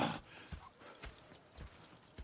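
Horse hooves clip-clopping at a steady walking pace in Red Dead Redemption 2, a handful of soft, fairly faint thuds spaced about half a second apart with no talk over them.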